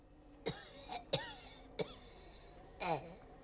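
Four sharp coughs from a person at a mock doctor's examination, spaced irregularly, close and fairly loud, with the last one drawn out and rougher.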